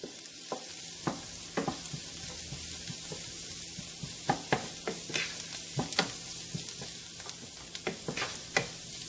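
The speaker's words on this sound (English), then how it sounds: "I am going to add turmeric powder." A crab masala sizzles softly in the pan while turmeric powder goes in, with scattered scraping clicks of a spoon stirring at an irregular pace under a steady low fry hiss.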